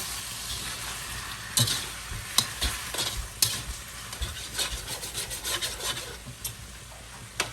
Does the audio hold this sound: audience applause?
no